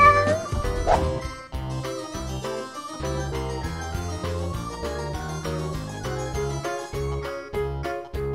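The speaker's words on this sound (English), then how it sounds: "It's a cat! Cat!" Cat meowing amid busy background music with a steady beat and melody, the calls blending into the loud, continuous musical texture.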